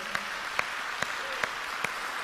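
A church congregation applauds, faint and distant, with a handful of sharp single claps spaced evenly over a soft background hum.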